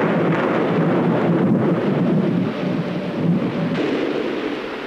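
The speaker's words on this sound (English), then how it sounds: "The onset of a thunderstorm almost always includes strong gusts of wind and heavy rain." A thunderstorm arrives with heavy rain and strong wind gusts, giving a continuous loud roar and rumble that swells and eases over several seconds, with no voices.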